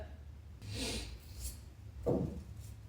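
Sewn fabric for pajamas is trimmed close by. It makes two soft, brief rasping cuts over a quiet background.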